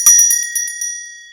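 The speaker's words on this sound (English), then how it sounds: "Found this little brass stag bell." A small brass stag bell is shaken, giving a quick series of bright, clear rings that hit hard and then fade out with a long, shimmering decay; the ringing is loud and close.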